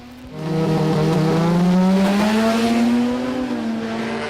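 Modified compact race cars, a Mazda Ute against a Ford Falcon, at the Jamboree Sydney event: one loud, close engine revs hard and rises steadily in pitch, with tires squealing, then eases off near the end.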